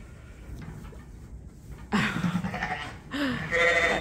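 Sheep bleat inside a barn as they are readied for lambing; after a quieter stretch, two loud nearby bleats rise over general pen noise and shuffling.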